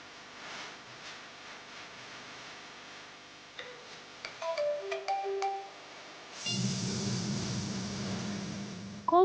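A phone rings, opening with a soft ticking, then a short run of bright tonal beeps, then a louder, fuller ringtone that carries to the end.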